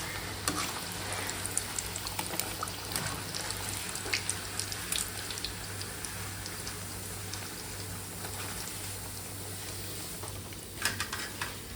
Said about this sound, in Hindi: मैं क्रिस्पी चिकन बना रही थी